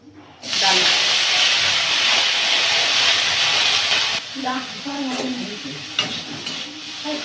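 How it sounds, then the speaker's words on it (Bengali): Cauliflower pieces drop into hot oil in a kadai, and a sudden loud hissing sizzle bursts out and holds steady before easing into quieter frying with metal stirring clatters. "ফুলকপিটা ভেজে নেব"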